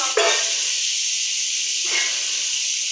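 Spices frying and roasting in a pot for chicken pulao, a loud steady hiss with two brief bursts of sputter as something hits the hot oil, no talking.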